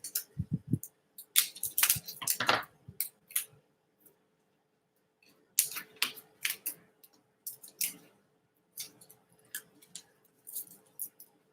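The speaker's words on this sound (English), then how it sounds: "I'm just putting double-sided tape on all sides" Double-sided tape pulled and pressed along the edges of a shadow puppet screen frame, heard as close, crackly tearing and peeling bursts in uneven clusters separated by near-silent pauses.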